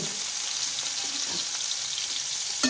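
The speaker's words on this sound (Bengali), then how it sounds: "আমার চিংড়ি মাছ ভাজা হয়ে গেছে, এবার তুলে নিচ্ছি" Prawns frying in hot oil give a continuous bright sizzle, close and steady, ending with a brief clatter.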